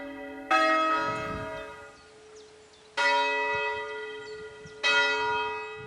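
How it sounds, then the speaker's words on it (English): A church bell rings three times in slow succession, each stroke loud and clear with a rich ringing tone that decays slowly before the next strike. "Most people think that ringing a bell is just ding, ding, ding, ding, ding, ding, ding, ding"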